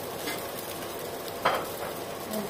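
Leftover fried rice being stirred in a hot pan, a soft steady sizzle with faint scraping and one brief clink of the utensil against the pan.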